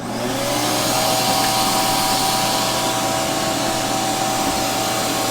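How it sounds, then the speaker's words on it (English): A shop vac running on DC inverter power whirs up and then holds a steady, loud, close drone with a faint tonal whine throughout. "So now I'm running the shop vac completely off of DC voltage"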